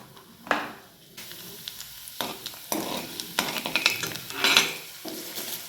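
Finely chopped garlic and mustard seeds sizzle and crackle in hot oil in a pan while making leftover-rice khichdi, a close, steady frying hiss with a few stirring scrapes.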